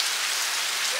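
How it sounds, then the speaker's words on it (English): Steady rain falls on a rainy day in Samoa, a dense, even hiss of drops on surfaces holding at constant loudness throughout, with no voices over it. "Rainy day today"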